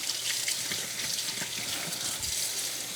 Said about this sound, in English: if we rinse the filter off, we're going to make sure and let it dry